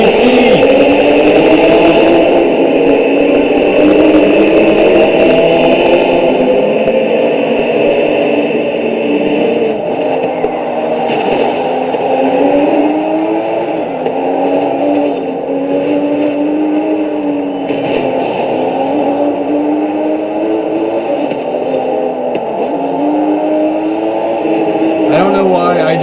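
A 2005 Ford GT in a Forza Horizon 5 street race, its engine droning loud and steady at high revs with rising and falling pitch through gear changes, running continuously for the whole stretch.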